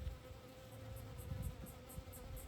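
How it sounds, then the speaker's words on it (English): European honeybees and a native Australian bee foraging on blackberry flowers, giving a steady low insect buzz close by, with a faint high whine pulsing above it and no voices. "You can see 3 European honeybees tucking into this one cluster."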